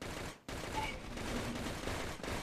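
Dense, continuous automatic gunfire in the shooter game CrossFire's mutant mode, a loud sustained fusillade broken by a brief drop just before the half-second mark.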